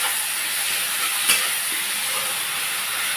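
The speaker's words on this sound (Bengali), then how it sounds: "হাফ চামচ মতন রসুন বাটা, হাফ চামচ মতন আদা বাটা দিয়ে আমি এটাকে ভালো করে কষিয়ে নেব।" Garlic and ginger paste with chilli sautés in a pan with a steady, fairly loud frying hiss, broken once by a brief scrape of a utensil, and no speech.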